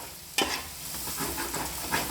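Fish masala frying and being stirred in a pan for a Telugu-style fish curry, a steady soft sizzle with scraping stir strokes and a sharp clatter near the start, close and moderately loud, no talking.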